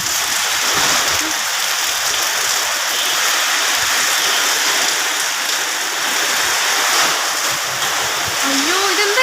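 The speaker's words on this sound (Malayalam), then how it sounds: "അയ്യോ, ഇതെന്താ ഇങ്ങനെ കാറ്റടിക്കുന്നത്?" Strong wind drives rain through Kalpathy in Palakkad, a loud, unbroken hiss of downpour and gusts that stays even throughout, close to the listener.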